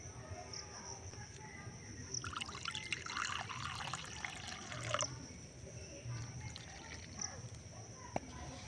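Lukewarm water poured from a measuring bowl into a bowl of flour dough, a faint trickling pour lasting a few seconds amid quiet room noise.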